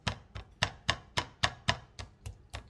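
A T-bone steak is pounded with a tenderizer, giving a run of about ten sharp, evenly spaced thwacks that land steadily and close up, with no talking.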